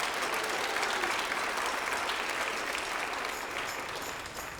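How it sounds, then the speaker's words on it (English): Sustained applause from a school band concert audience fills the hall, a dense steady wash of many hands clapping that keeps going at full strength throughout. "Let's give them a round of applause."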